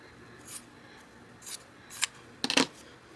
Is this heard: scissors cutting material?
yes